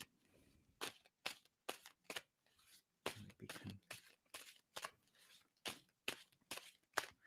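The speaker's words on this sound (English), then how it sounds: "And tell me when I should stop shuffling." Cards are riffled and shuffled in a string of quick, crisp bursts, close and fairly quiet.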